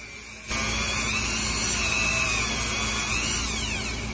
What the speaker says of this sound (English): Now I'm gonna get the 400 grit and sand it smooth right there.